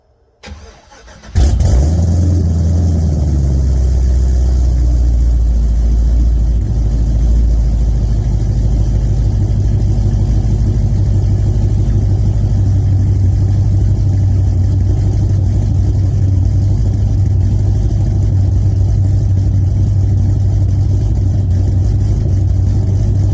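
After a brief click, the heavily modified engine of a 2022 SVT Lightning truck starts, then runs loud and steady with a deep rumbling idle close by. The rumble holds for about twenty seconds with slight swells in revs and no talking.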